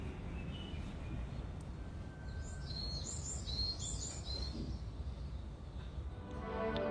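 Birds chirp and sing outdoors in a quiet open area, a cluster of thin, distant calls rising over steady low ambient rumble, with no talking.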